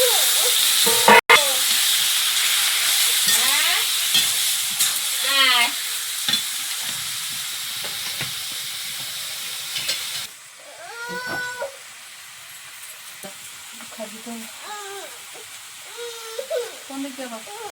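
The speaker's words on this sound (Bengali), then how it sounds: "চিংড়িটা ভালো করে ভাজা হয়ে গেছে" Prawns with turmeric and salt fry in a pan, a strong sizzle that drops in level partway through, while voices and a meowing cat are heard over it.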